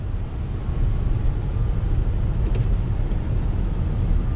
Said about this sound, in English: All you're hearing is the air conditioning and a little bit of Tron cycle noise that I like to call it